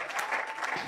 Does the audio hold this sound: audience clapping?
yes